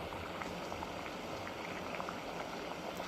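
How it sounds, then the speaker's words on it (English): Water at a rolling boil during a physics demonstration measuring mass loss and power, a steady dense bubbling hiss with faint popping, continuous and close, no talking. "So now the water is boiling."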